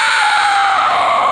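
A man screams loudly and continuously at full volume, a sustained strained yell on its own with no break for its whole length.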